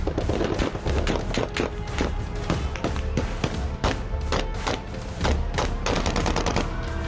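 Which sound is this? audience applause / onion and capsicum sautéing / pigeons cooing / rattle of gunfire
rattle of gunfire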